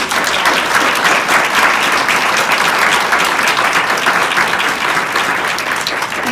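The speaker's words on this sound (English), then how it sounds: "let's give a round of applause to the candidates" Steady, dense applause from a forum audience for school board candidates, loud and sustained throughout with no talk over it.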